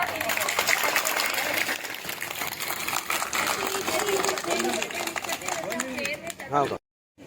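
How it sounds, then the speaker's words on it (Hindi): Schoolchildren at a government girls' school clap for their teacher, brisk scattered applause under and alongside talking, ending abruptly. "कैलाश मैम के लिए ताली बजा दो।"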